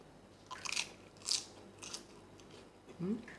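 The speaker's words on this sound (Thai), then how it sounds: "กรอบไม่กรอบมาฟังเสียงนะเจ้า" Close, crisp crunching bites and chewing of crunchy food during a Northern Thai roasted pork larb meal with banana blossom and sticky rice, several short crackly bursts at low volume.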